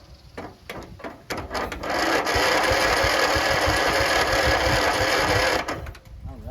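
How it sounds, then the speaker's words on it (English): A Briggs & Stratton engine on a Craftsman LT1000 17.5 HP lawn tractor cranks over under the starter, a steady mechanical churning that runs for about four seconds after a few short clicks and then stops. "so it cranks 1 full revolution and more"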